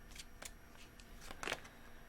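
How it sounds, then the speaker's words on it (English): A tarot card deck being shuffled, with a few quick, soft riffling bursts close by and quiet between them, the longest near the end. "Last shuffle."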